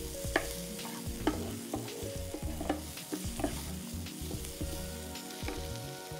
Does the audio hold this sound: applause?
no